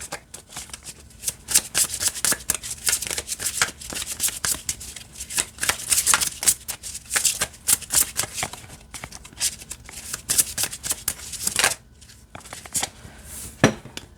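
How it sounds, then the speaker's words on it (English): A deck of cards overhand shuffled by hand nearby in a long, steady series of soft slaps and flicks, rhythmic and continuous, with no voices. "it shuffles overhand really nicely too"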